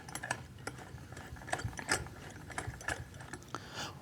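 A hand wheel rod being threaded into a T-nut in a router table lift block, giving a steady run of clicking, ratcheting metal turns with faint scraping underneath, close and continuous with no speech.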